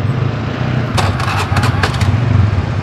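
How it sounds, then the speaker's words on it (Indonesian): A Honda Beat FI scooter engine runs steadily at close range after repair work, a continuous low putter with a few brief clicks or knocks over it, no speech. "Ya, ini motor jalan."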